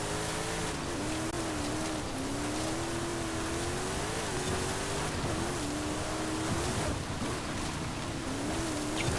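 A 2007 Toyota Hilux AT38 in Forza Horizon 5 drives off-road with a steady, loud engine drone whose pitch wavers slightly as it holds speed, against constant rushing noise.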